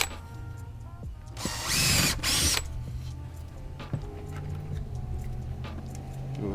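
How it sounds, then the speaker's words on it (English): A power drill pre-drills a hole in a 1x6 wood board while a bird house is built, with one loud whirring burst of about a second, a short pause and a second brief burst, then quiet workshop handling noises. "First, you want to pre-drill your hole so you don't split the wood."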